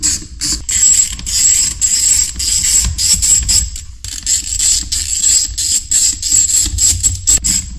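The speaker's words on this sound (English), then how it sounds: "let's take our T20 and undo the screws holding the speaker in place" A T20 driver works the screws holding a door speaker in a Jetta Sportwagen, giving steady close ratcheting clicks and creaks in quick repeated bursts, with a brief pause midway.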